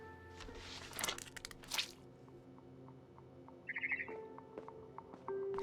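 A barn swallow in What Remains of Edith Finch chirps outside a window near her nest. A few short bright chirps come through, with some crunching and a soft rustle, over a faint, still background.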